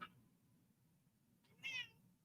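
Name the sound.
pet cat meowing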